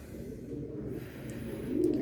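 Racing pigeons resting on loading day make a soft, continuous low cooing close by, steady throughout and swelling slightly toward the end, with no voices.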